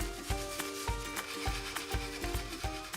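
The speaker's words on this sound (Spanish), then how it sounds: "lija el soporte previamente mediante una lija de grano de 80 y una espátula" Rhythmic scratchy rasping of 80-grit sandpaper rubbing back and forth on a base surface before microcement, repeated strokes at a steady pace, close up, with no talking.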